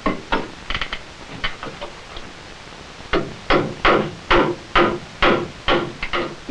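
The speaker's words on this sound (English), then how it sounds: "Also necessary to toenail the joist into the beam on both sides." A hammer toenails a wooden joist into a beam, giving a series of close, sharp knocks. The strikes are sparse at first, then come in a steadier, faster run.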